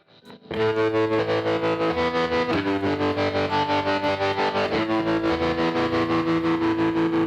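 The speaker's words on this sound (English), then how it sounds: "you're on more of the sine wave sound" A distorted electric guitar chord rings out through a Line 6 MM4 modulation pedal, pulsing with a steady, smooth sine-wave wavering that keeps swelling and fading in an even rhythm.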